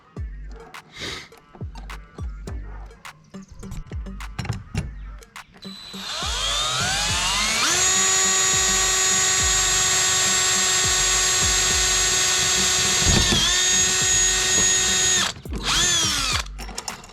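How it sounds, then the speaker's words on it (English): A power drill spins up and whines steadily at high pitch for several seconds while drilling a hole in a Dodge Challenger Hellcat to fit a splitter, after some handling clicks, then winds down. "That way we know where we're gonna drill the hole."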